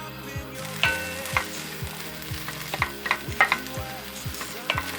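Red beans boiling in salted water in a pot bubble steadily up close, with a regular run of soft popping blips and a light background hiss, no voices.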